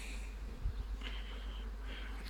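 Honeybees hum around strong hives in a beekeeper's apiary, a faint steady buzz with a couple of individual bees passing close over a low background rumble.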